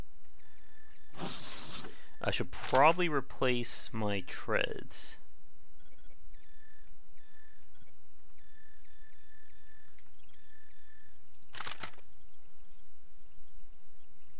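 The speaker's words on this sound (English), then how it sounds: "I'm hearing beeping." Short repeated electronic beeps from the ASCII-style robot game Cogmind, a series of thin, evenly spaced tones running in the background after someone talks, with one longer tone near the end.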